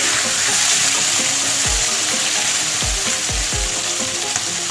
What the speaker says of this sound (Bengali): মাথাটা একটু কড়া করে ভেজে নেব